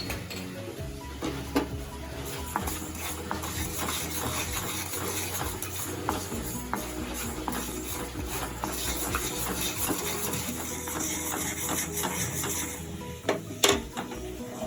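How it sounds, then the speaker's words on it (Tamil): Fenugreek seeds roast in a hot pan with mustard seeds already popped, giving a soft, steady sizzle under scattered scrapes and clinks of stirring, with a few sharper knocks near the end. "இந்த சூடுலயே வெந்தயம் வறுபட்டுடுங்க"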